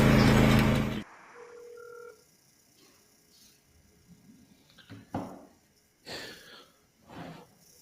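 A telephone dials a number in a series of short beeping tones separated by gaps, following a loud burst of noise at the start, with no talking.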